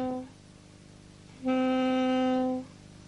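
A single short saxophone note played with a shallow breath sounds thin and steady for about a second, preceded by a faint brief tone, with quiet room noise around it.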